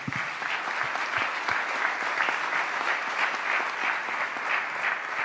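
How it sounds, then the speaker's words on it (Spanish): Steady applause from a conference audience, dense clapping continuing evenly throughout without pause. "pedirles un aplauso para ellos"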